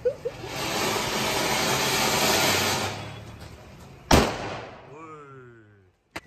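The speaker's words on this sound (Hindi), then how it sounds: "ये अनार बम अनार बम" Diwali anar fountain firework gushing in a loud, steady hiss for about three seconds, followed by a sharp firecracker bang, with family voices around the celebration.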